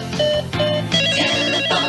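A toy telephone rings for a Telephone Tammy talking doll from the late 1980s, giving loud, close, rapid electronic trilling bursts in a quick repeating pattern with no voices.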